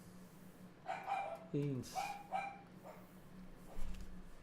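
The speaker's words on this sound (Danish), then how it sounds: "Går min hund lige amok" A pet dog barks excitedly in a home, a few sharp yips and barks in a quick burst mid-clip, fairly close, with a person talking around them.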